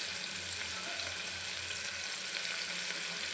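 Onion with ginger-garlic paste and green chillies fries in a pan for a tomato bath, giving a steady, close sizzle that holds level throughout with no voices.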